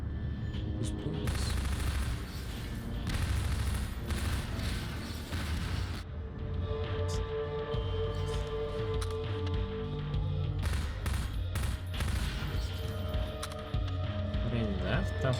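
Explosions and gunfire from the video game Half-Life 2, a dense, continuous barrage of booms and crackling shots at steady loudness, with a voice talking over parts of it.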